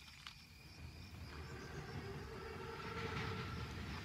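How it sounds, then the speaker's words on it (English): An armored train, a Panzerzug, arrives in the video game Call of Duty WWII with a low rumbling roll of wheels and machinery. The rumble grows steadily louder, with faint metallic clanks and a soft tonal whine above it. "Train's right on time."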